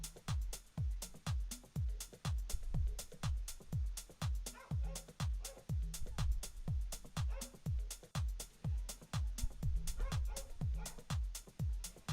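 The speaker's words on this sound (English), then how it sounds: "can you guys hear the dogs?" Dogs bark over and over in a fast, steady series of sharp, loud calls that stay close, with no one talking.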